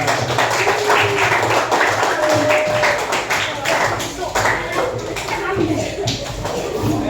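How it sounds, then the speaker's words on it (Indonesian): A classroom of students claps for group 2 after their presentation in an Indonesian religious studies lesson, scattered uneven clapping mixed with shuffling and overlapping voices. "tepuk tangan untuk kelompok 2"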